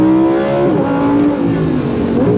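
The 5.2 liter naturally aspirated V10 of a 2024 Lamborghini Huracan Sterrato screams loud and close at high revs, holding a sustained howl that dips slightly in pitch before climbing again.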